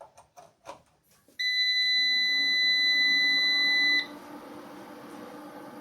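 A household power inverter switched on with 220 V mains applied sends out two steady high-pitched tones, loud and close, lasting about two and a half seconds before dropping to a quieter continuous hum.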